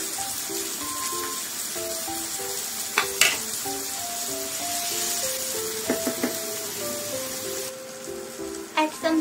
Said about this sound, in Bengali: আমার টমেটো আর পেঁয়াজ ভাজা হয়ে গেছে